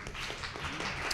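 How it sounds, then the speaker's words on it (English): Audience applause greeting a managing editor introduced at a public event, a short burst of dense, steady clapping with a voice faintly underneath. "Oh, yes, definitely applause."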